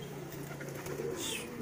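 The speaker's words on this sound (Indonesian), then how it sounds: "Memang merpati itu kadang tidak hinggap di genteng orang, kadang langsung pulang" Racing pigeons cooing softly nearby, a low repeated murmuring coo in a quiet outdoor setting, faint and brief.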